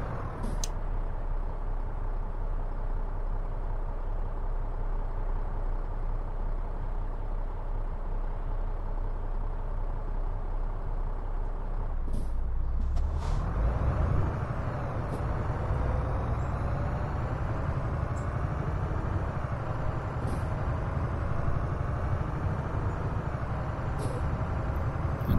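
A heavy Mack Pinnacle truck engine in American Truck Simulator rumbles steadily with a low drone, then revs up partway through and keeps running louder, with brief hissing bursts like air brakes.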